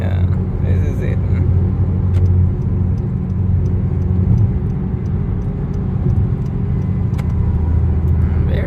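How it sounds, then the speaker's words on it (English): Steady city road traffic with cars passing continuously, a dense low rumble of engines filling the scene throughout, with a voice talking over it. "Look at all the cars."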